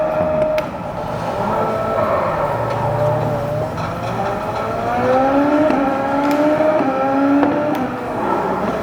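A race car engine in a racing simulator game, a continuous loud drone rising and falling in pitch through gear changes, with occasional faint clicks over the top.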